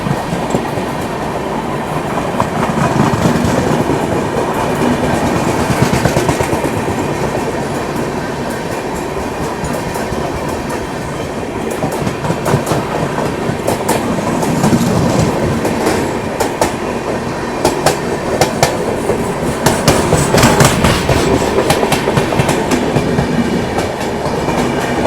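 An express train on a parallel track rumbles past at close range with steady wheel clatter and rattling cars, loud and continuous throughout.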